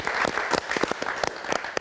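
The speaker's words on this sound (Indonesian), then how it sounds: "Kita berikan tepuk tangan." An audience at a live film meet-and-greet event claps for a guest, a brief burst of scattered clapping with distinct individual hand claps standing out.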